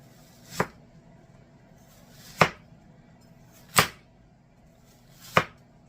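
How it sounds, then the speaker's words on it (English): A knife chops vegetables on a cutting board into thin slices for pico de gallo, giving four sharp, separate thunks spaced a second or two apart against a quiet kitchen background. "So I'm going to cut thin slices because I want small chunks."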